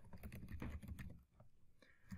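Fingers type quickly on a computer keyboard, a dense close run of clicky keystrokes with a short pause in the middle before the tapping resumes.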